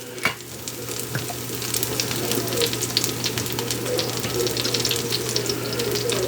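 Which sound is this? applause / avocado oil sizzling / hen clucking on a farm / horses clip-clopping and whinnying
avocado oil sizzling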